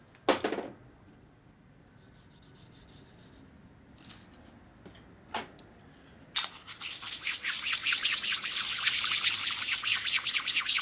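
Honing stone rubbing inside a 1947 Harley-Davidson EL Knucklehead 74ci cylinder, first dry with sparse scraping strokes, then a steady, louder wet hissing rasp of continuous strokes once lubricant is added.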